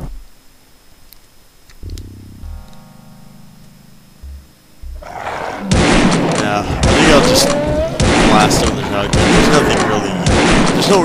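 Shotgun fire erupts in the video game Realms of the Haunting: after quiet low game tones, a sustained barrage of loud, booming blasts and explosive noise fills the last half, up close and dense.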